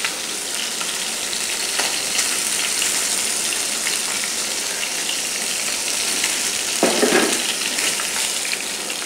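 Tilapia pieces fry in hot oil with a loud, steady bubbling sizzle close by, broken by a few soft scrapes and a brief burst of stronger crackle toward the end.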